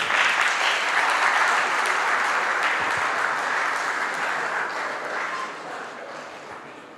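An audience gives a round of applause for a guest lecturer at an annual population lecture, a dense, even wash of clapping that is loud at first and gradually fades toward the end, with no speech.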